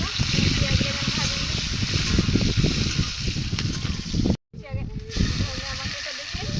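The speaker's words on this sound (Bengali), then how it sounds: "একটু ভাজা নেব। পেঁয়াজ ভাজা" Sliced onions and bay leaves fry in hot oil in a pan for a chicken dish, giving a steady, close hiss and crackle for several seconds, with a brief silent gap near the end and a voice faintly present at times.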